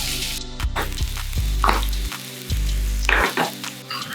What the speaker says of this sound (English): We're gonna put in our veggies just to roast a bit,